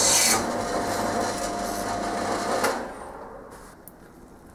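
A threaded rod and half nut being cut through, heard as a steady, close grinding rasp that runs for nearly three seconds, then stops, leaving a few faint clicks.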